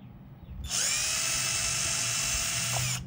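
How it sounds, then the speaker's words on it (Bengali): A WADFOW WCDS540 cordless screwdriver backs a screw out of a small electronic item, its motor whining loud and close in one steady run of about two and a half seconds before cutting off, with no talk over it. "যেমন এই স্ক্রুটা আমি খোলার চেষ্টা করবো।"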